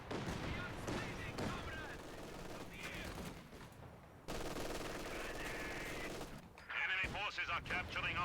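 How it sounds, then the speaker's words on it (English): Bursts of gunfire and explosions from a Company of Heroes 2 battle, including an incendiary grenade going off, crackle in repeated rapid volleys at moderate distance during a one-versus-one match. "Oh, that was an incendiary grenade."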